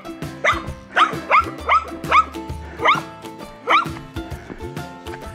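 A small dog barks over and over in sharp, high yips, about seven close, loud barks in an uneven rhythm, with some background noise underneath.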